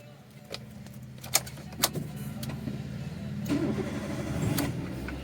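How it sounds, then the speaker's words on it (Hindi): A car engine cranks and catches after a couple of sharp clicks, then settles into a steady mid-pitched idle heard from inside the vehicle. "देखिए इंजन स्टार्ट हो गया"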